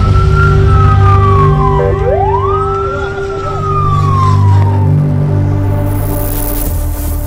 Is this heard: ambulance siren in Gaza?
yes